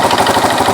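A Yamaha RX King two-stroke motorcycle engine runs steadily with the throttle held open, a loud, continuous, raspy buzz with rapid pulsing and no pauses.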